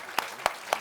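A church congregation clapping: three distinct, evenly spaced claps in under a second, crisp and fairly close, with no talk over them.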